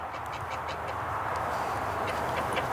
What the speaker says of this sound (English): Oh, that goose is coming.